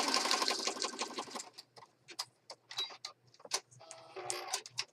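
A sewing machine stitches through the layered paper of a handmade paper bag journal, its fast needle rattle loud and continuous at first, then breaking into short bursts and clicks with brief pauses between.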